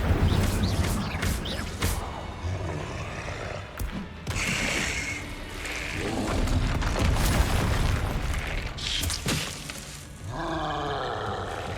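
An Incendio fire spell is cast in Hogwarts Legacy amid dense combat, with roaring whooshes, booming blasts and creature growls layered continuously and loudly.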